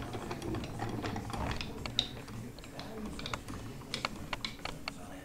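A hand-cranked sausage stuffer pressing meat into casings, giving quiet close ratcheting clicks and mechanical creaks in irregular bursts over a low hum.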